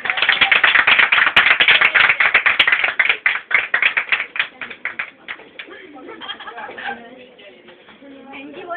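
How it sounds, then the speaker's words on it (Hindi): Classroom applause for the teacher: rapid dense clapping from a group, loud at first, then thinning into scattered claps and fading under chatter. "टीचर के लिए जोरदार तालियां।"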